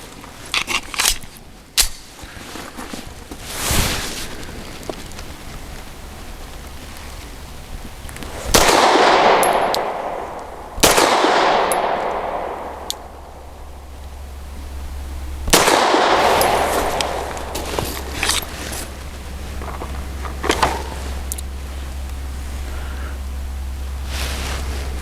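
A Wilson Combat SFT9 9mm pistol fires heavy-duty frangible lead-free 100-grain rounds outdoors, with sharp single shots spaced several seconds apart, each ringing with a fading echo over a low background hum.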